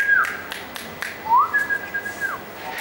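A man whistles to call a horse, a series of short, sharp calls, a few sliding upward, then holds one longer steady note, close and clear with nothing else around.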